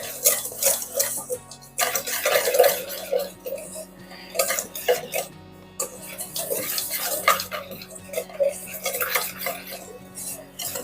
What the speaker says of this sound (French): Le sucre et la farine dans le saladier. On va déjà remuer tout ça.